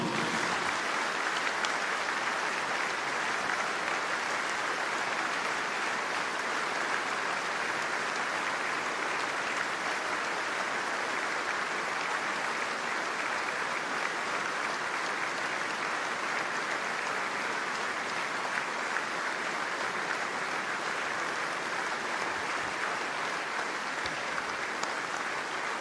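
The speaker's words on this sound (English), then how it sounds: "could I ask you to join in a moment's applause for the King, Barry John." A rugby stadium crowd at a Scarlets versus Munster match applauds in sustained, dense clapping that holds at an even level throughout, with no talk over it.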